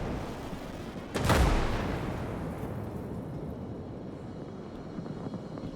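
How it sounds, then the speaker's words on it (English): A massive explosion in the game Gates of Hell Ostfront erupts as one sudden loud boom, then a long rumbling roar that slowly fades. "let's see this massive explosion anyway"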